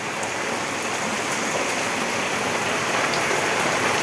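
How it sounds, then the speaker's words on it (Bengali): Steady rain falling during a storm, a dense continuous hiss of drops on surfaces, close and even throughout with no talk. "কেমন বৃষ্টি হচ্ছে টপার টপ টপার টপ বৃষ্টি হচ্ছে"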